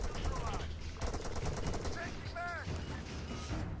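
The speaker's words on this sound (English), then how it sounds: "Sounds like friendly shooting somewhere close." Rapid gunfire rattles through an urban firefight in the video game ARMA 3, dense continuous bursts filling the scene with faint radio-like voices and chirps woven underneath.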